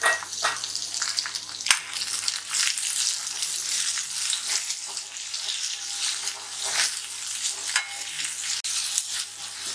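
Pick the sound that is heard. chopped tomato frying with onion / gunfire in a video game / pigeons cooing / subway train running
chopped tomato frying with onion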